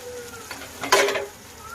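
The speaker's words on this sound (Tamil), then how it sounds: "மஞ்சள்தூள் சேர்த்து நல்லா வதக்கி விட்டு எடுத்துக்கலாம்." Onion, tomato and turmeric sauté in a pan in a home kitchen, with a soft sizzle under a single quick scrape-and-stir of a spoon, brief and close.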